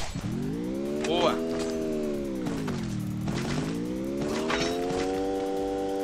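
A car in a video game drives with a rising and falling engine whine, its tires squealing in brief bursts over the steady drone, while voices talk over it.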